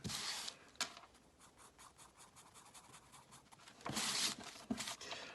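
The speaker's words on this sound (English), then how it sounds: "if I want to make it darker, I'll do some cross hatching, go the other way." Pencil cross hatching on paper while drawing an eye, soft quiet scratchy strokes in a steady back-and-forth rhythm, with a couple of brief louder rubbing bursts, close and faint.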